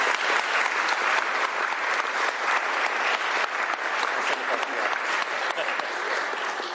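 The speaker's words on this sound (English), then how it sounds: "Give him a round of applause for his work on this." Sustained audience applause at a governor's bill signing, a dense steady clatter of many hands clapping at even loudness throughout, with no speech over it.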